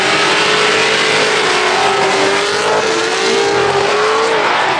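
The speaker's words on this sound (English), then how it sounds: "She loved watching drifting." Race cars drifting at a motorsport festival, heard as a loud, continuous engine roar with sustained revving and a high wailing tone that could be tire squeal, with no talking.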